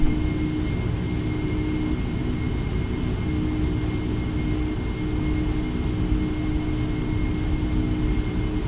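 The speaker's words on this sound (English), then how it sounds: "the engine sounds are really good, I have to say" Loud, steady roar of jet airliner engines, a continuous low rumble with a faint whine above it, no voices.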